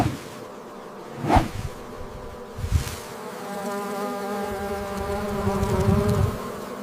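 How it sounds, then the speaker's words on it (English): Honey bees buzzing inside a climate-controlled smart hive, a continuous droning hum with individual bees passing close by in brief loud swells, no voices. "bees convert nectar to honey, fanning wings to evaporate water"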